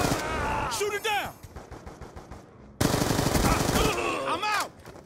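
Rapid automatic gunfire in Call of Duty: Black Ops II, shooting down an RC-XD remote-control car: two loud sustained bursts separated by a brief lull, with game effects and faint voices mixed in.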